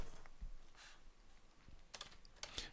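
Keys tapped on a computer keyboard during data entry in church membership software, a sparse scatter of soft clicks with a few sharper strikes, close and quiet with no talking.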